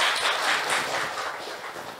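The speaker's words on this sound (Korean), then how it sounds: "큰 박수 부탁드립니다" Audience applause at a residents' briefing on the Bakdal Smart Valley development project, a dense steady wash of many hands clapping that slowly tapers off.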